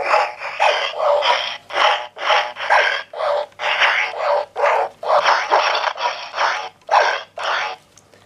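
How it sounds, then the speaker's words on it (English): Power Rangers Beast Morphers toy Morpher plays electronic fighting sound effects: a rapid, rhythmic string of loud, gritty bursts running continuously for about eight seconds. "the sounds change with the fighting sounds like this"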